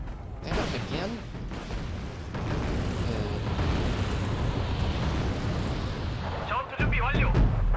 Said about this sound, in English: under the artillery bombardment, eh?